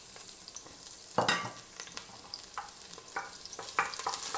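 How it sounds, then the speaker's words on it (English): Onion and chili sizzle quietly in a hot pan, with occasional scraping and clattering as they are stirred. "We're just gonna fry them just a little bit."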